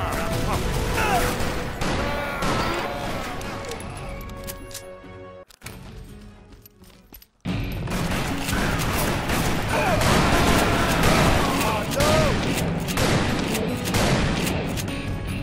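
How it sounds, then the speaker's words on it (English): Sustained heavy gunfire in the Western shooter Call of Juarez: Bound in Blood, loud and dense across the clip with a Gatling gun's rapid rattle, broken by a sudden near-silent gap before the barrage resumes. "Another damn Gatling gun."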